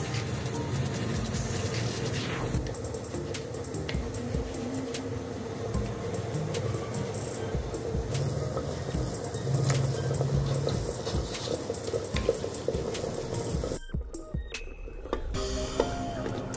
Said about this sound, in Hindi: इसी के साथ में मैं पानी में डाल दूंगी इसको। पानी गर्म जो है।